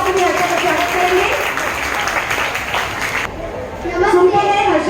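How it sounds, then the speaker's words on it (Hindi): Audience applause at a school Hindi Day event, welcoming a ninth-grade student to the stage; steady crowd clapping with some chatter, loud and close, easing briefly before swelling again. "हर्षा, जोरदार तालियों से आपको हर्षा का स्वागत करेंगे।"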